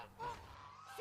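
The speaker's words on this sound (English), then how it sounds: "Uh-oh. Guard goose." A guard goose honks in the cartoon My Little Pony, with two short nasal honks, quiet and close, over a low background and no talking.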